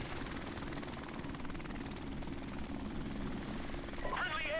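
Helicopter in Call of Duty 4 Modern Warfare Remastered, a steady rotor thump and engine drone under game noise, with a voice speaking over it briefly.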